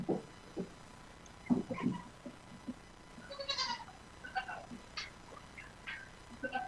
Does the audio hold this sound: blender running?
no